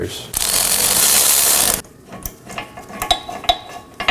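An impact or ratchet tool loosening an 18mm caliper bracket bolt on a 2018-2024 Chevrolet Equinox rear knuckle: a loud sustained mechanical burst, then scattered clicks and metallic clatter.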